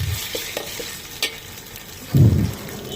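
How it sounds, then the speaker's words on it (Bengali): Onions frying in oil for khichuri, stirred in the pan: quiet scraping and light sizzle, then a loud burst of hissing, spattering frying near the end. "প্রথমে পেঁয়াজ তেল দিয়ে ভালো করে বেরেস্তা করে নিলাম, আদা রসুন বাটা দিয়ে দিলাম।"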